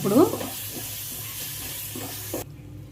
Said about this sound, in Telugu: ఇప్పుడు మసాలా అంతా కూడా బాగా వేగిందండి.